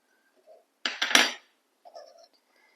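Metal pan and utensils clatter and scrape while butter goes into the pan, a loud burst of clanking followed by a softer, brief rattle, with no talking.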